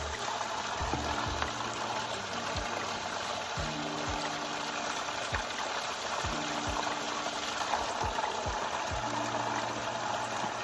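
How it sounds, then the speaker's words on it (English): Water flows and trickles steadily in a continuous close wash, with a faint low rhythmic hum beneath, and no one speaking. "enjoy these sounds of water, ASMR."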